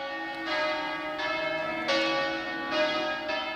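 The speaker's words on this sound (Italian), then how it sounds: "l'uscita del feretro di Maria Angela Sarto sul sagrato per l'ultima benedizione scandita dal suono delle campane." Church bells ring in a steady, resonant sequence of overlapping strikes, each one sustaining into the next, with no voices.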